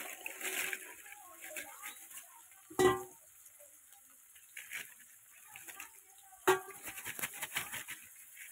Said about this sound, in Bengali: এই যে এবার ফুলকপিগুলো একটু ভেজে নেবো, ডালে ভেজে দেবো।